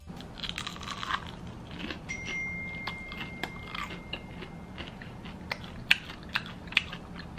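Someone bites into crusty fried shrimp during a taste test, giving quiet crunchy bites and chewing with scattered sharp crackles and clicks against a low background murmur.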